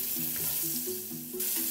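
Pork sautés in a frying pan with a close, even sizzle and soft sputtering, punctuated by a few light stirring sounds over a short stretch.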